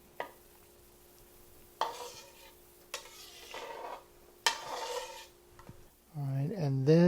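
Instant yeast gets stirred into a liquid mixture in a bowl for pita dough, with a few distinct scraping clinks and swishes spaced apart, close and fairly quiet, and a voice briefly heard near the end.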